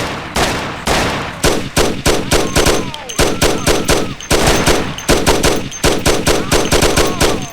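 Rapid bursts of automatic gunfire in the classic Mafia video game, loud and close, firing in quick volleys with short gaps between them.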